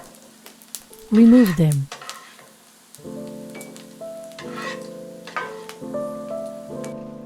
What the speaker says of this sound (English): Brown the sausages in a pan over medium heat for 3 minutes. Stir from time to time.